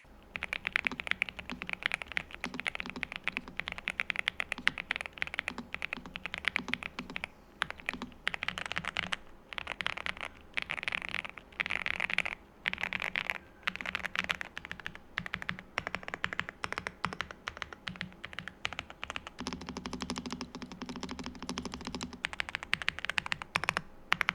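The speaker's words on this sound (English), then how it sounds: "it all gives you a very nice soft typing experience" Rapid, continuous keystrokes on a NuPhy Halo75 V2 mechanical keyboard, close and moderately quiet, with soft muffled clacks and occasional brief pauses.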